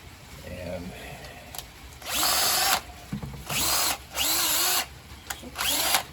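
Power drill boring a mounting hole up under the top rim of a container, several loud whirring bursts in quick succession with brief pauses, close by, with faint talk before the first burst.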